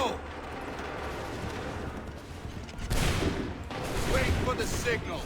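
Musket volley gunfire in Assassin's Creed III: a steady wash of battle noise gives way to two loud, crackling volley bursts, the second broad and sustained, heard amid battlefield din.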